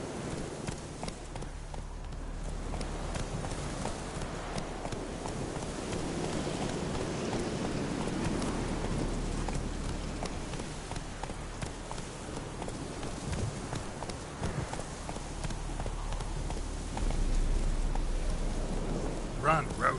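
Roach, the horse from The Witcher video game, gallops steadily through a rainy landscape, hoofbeats rolling continuously under a wash of rain noise, with a brief voiced shout partway through.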